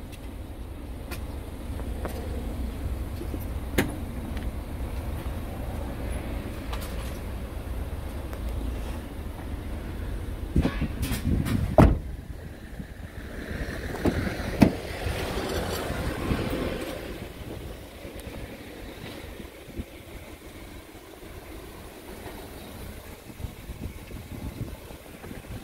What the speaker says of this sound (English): Engine is a good sound.